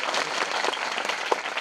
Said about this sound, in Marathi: आमच्या भाऊ टाळ्या वाजावर